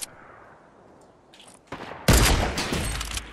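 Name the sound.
sniper gunfire in video game Fortnite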